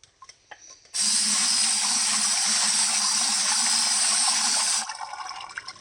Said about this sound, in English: Now I can rinse him out.